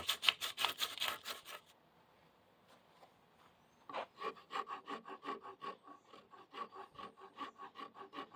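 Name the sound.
hand sanding a wooden guitar neck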